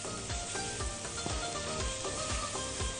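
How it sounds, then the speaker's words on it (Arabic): Minced garlic sizzles steadily in a hot pan at close range, a bright continuous fry with regular soft scraping taps as it is stirred. "هاخد التوم المفروم وابتدي اشوحه"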